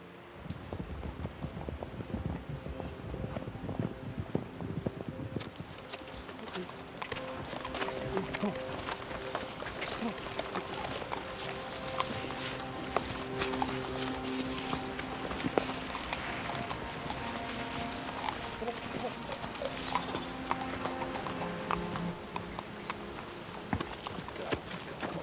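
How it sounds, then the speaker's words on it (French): Horses clip-clop along at a steady walk while being ridden through a valley toward a farm, hooves thudding under layered music and movement noise, with a voice speaking over them. "Regardez les chevaux. Nous les avons montés toute la journée et ils ont besoin de repos."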